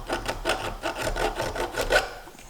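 A metal file rasps a burr off the end of a worn shaft keyway on a snowmobile-style transmission, giving a series of short, scratchy strokes close by with no talking.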